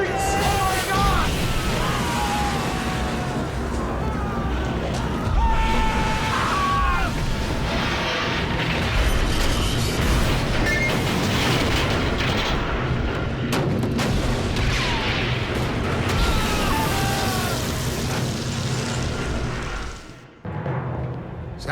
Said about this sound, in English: there was an explosion in turret 2